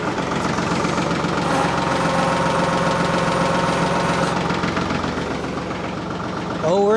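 A tractor fitted with a backhoe frame idles nearby with a steady, knocking diesel rumble that holds even and loud the whole time, ending with a brief rising whine.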